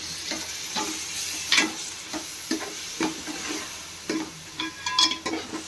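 Curd cooks in a pan for chicken pulao, sizzling and bubbling while a spoon stirs it in repeated scraping strokes, close and moderately loud, with no talking.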